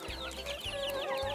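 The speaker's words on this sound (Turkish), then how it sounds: "Amma öttün civciv." High, repeated chirps from a chick in a chicken coop, quick overlapping peeps over a low, soft clucking from nearby hens, close and fairly quiet.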